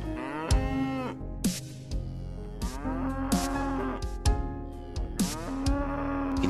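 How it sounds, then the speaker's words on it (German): About fifty cows on a grassy farm pasture, several loud drawn-out moos from different animals overlapping and following one another, some near and some farther off. "Hier verbringen ca. 50 Kühe den Großteil ihres Lebens auf der Weide mit saftig grünen Wiesen"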